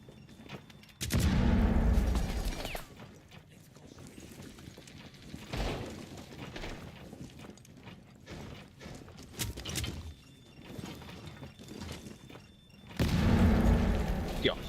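Video game gunfire and explosions arrive as several loud, sharp bursts and booms spaced across the stretch, with quieter clatter and mechanical noise between them.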